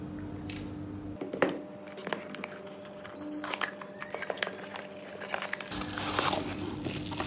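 A 2K webcam box being unboxed, its plastic packaging crinkling and crackling in irregular bursts close by, with occasional light knocks and handling noises and no talking.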